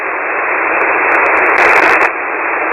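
Steady hiss of shortwave SSB radio static fills the clip, loud and continuous, with a few faint crackling ticks and no voices.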